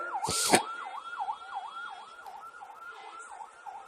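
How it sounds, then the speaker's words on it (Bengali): An ambulance siren wails in a regular rising and falling cycle as it passes at a moderate distance, preceded by a brief sharp burst of noise near the start. "অ্যাম্বুলেন্স যাচ্ছে"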